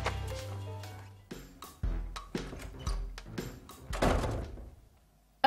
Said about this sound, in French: Sly, Ruby, tu ne sais pas frapper à la porte?